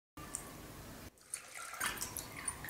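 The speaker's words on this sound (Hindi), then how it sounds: "और अब इसमें हम ऐड करेंगे पानी।" Water pours and splashes into a pot while urad dal gosht is cooked, a faint, close, steady liquid stream with a brief pause midway.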